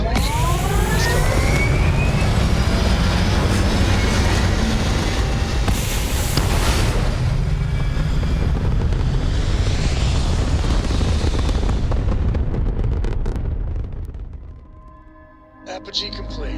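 Deep, continuous engine roar of a spaceship lifting off in the video game Starfield, loud and steady for most of the stretch before tapering off near the end, with no talking.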